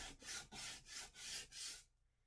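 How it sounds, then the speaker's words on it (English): Sandpaper rubbed back and forth over wooden paint sticks, about five close, rhythmic rasping strokes before it stops. "So I'm just going to take my sandpaper and I'm going over my paint sticks with my sandpaper."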